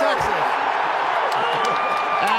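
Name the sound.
draft crowd cheering in Green Bay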